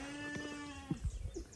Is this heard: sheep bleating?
yes